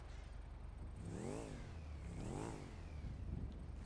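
A motorcycle in a GTA video game revs twice with rising and falling engine pitch, a steady idle rumble running between the revs, fairly quiet overall with no voices.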